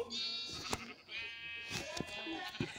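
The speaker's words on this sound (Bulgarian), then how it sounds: "Овца." Sheep bleat loudly and close by in a farm setting, several wavering calls one after another, with faint voices in the background.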